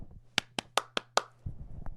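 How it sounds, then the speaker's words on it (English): Five sharp hand claps in quick, even succession, close and clear, followed by a faint rustle. "I'm gonna clap right now."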